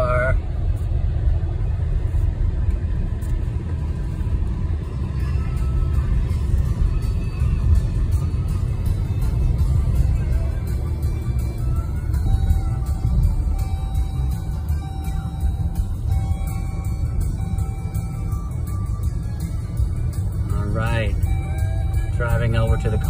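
Car driving along a road in Cedar Grove, Kentucky, on the way to a car wash, with a steady low road rumble and engine drone throughout and a voice talking over it.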